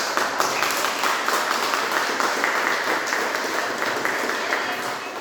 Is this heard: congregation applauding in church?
yes